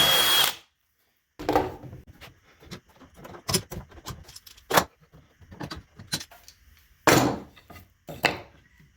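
Power drill widening a hole in a piece of wood through a wooden guide block, in short bursts of whirring and grinding separated by pauses, close and fairly quiet, with some clattering between runs.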